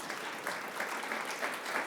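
An audience at a Canadian Club of Ottawa speaking event applauds, a dense and steady clatter of many hands clapping without any voices over it.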